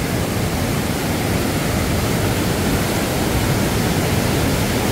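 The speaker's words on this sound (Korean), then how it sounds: "쭉 올라온 계곡입니다. 물 장난 아니죠?" Powerful rushing water of the Ssangryong valley stream below Ssangryong Falls, a loud steady broadband roar filling the whole clip without pause, close and unbroken with no voices.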